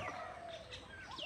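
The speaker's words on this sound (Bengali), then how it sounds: "সব পাখিতে খেয়ে নিচ্ছে" Birds feeding in a garden rose apple tree, with soft pigeon- or dove-like coos and a few chirps sounding steadily at moderate distance over a faint outdoor background.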